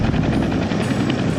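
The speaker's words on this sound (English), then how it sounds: "There's the helicopter again." A helicopter circles directly overhead above Tikaboo Peak, its steady rotor roar loud and continuous throughout, with no talking.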